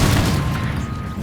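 Dense rapid gunfire in a Fortnite short film, a loud continuous burst of booming shots with heavy low-end rumble, steady and sustained throughout with no pauses.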